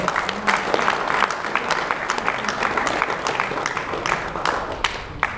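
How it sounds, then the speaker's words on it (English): An audience at a Valhalla Strength gym Q&A claps for powerlifter Ed Coan, a sustained round of many sharp, close hand claps with crisp individual slaps standing out over a continuous bed. "going to get a big round of applause for Ed for coming all the way out"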